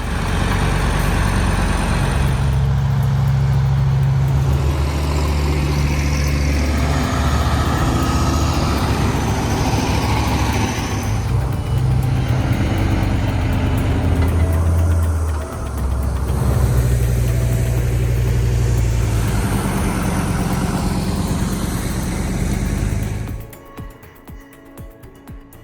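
A heavy truck hauls a Volvo EC750EL excavator with a loud, close diesel rumble that shifts in pitch as the load moves, then cuts off abruptly near the end.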